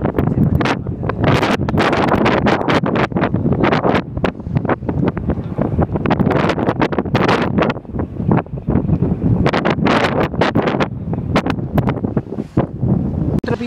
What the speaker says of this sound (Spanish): está mucho viento, nublado